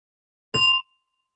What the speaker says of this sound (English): So as you hear the gong,